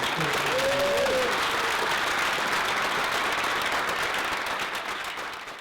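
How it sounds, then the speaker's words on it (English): Sustained applause from a large conference audience at a tech training event, loud and dense throughout before easing slightly at the very end. "Big round of applause, everybody."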